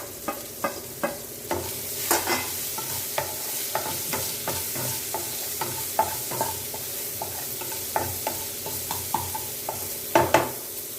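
Onion, green chili and broccoli sautéing in a pan, a steady sizzle punctuated by frequent sharp scrapes and knocks of a spatula stirring, close and fairly loud with no talk.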